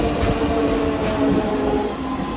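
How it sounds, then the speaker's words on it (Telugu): The Venkatadri Express, running from Kacheguda to Chittoor, pulls into a station with a loud, steady rumble of wheels and rolling coaches, close and continuous, with no talk over it. "మన వెంకటాద్రి ఎక్స్ప్రెస్ ట్రైన్ అయితే ఆన్ టైంకి అయితే వచ్చేసింది"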